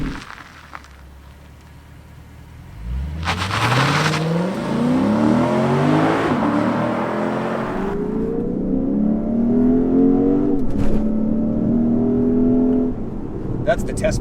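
A Lexus IS 500 F Sport Performance in sport mode accelerating hard, its engine note climbing through rising revs with a gear change midway, then holding a strong drone as people talk inside the cabin.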